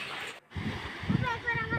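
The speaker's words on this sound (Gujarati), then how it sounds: "અંદર માયાદેવી ઉપરથી બધું પાણી પડતું છે" Water falls and splashes inside the Maya Devi cave, a close, bubbly trickle that starts after a brief silence and carries on for a moment.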